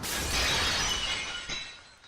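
Glass shattering sound effect: a loud bright crash that bursts at once and then fades over two seconds into tinkling debris.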